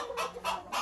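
Onagadori long-tailed chickens cluck close by in three short bursts with brief gaps between them, clear and moderately loud.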